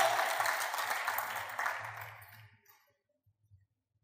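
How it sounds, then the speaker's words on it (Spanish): A church congregation applauds loudly, then the clapping fades out over a couple of seconds, leaving faint low sounds behind. "aplaudieron"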